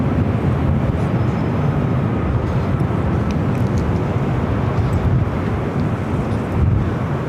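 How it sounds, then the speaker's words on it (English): A WestJet Boeing 737 MAX 8 arrives from Calgary at LAX, heard as a steady, low, rushing jet rumble that stays even and fairly loud throughout, mixed with wind buffeting. "WestJet 737 MAX 8 coming from Calgary"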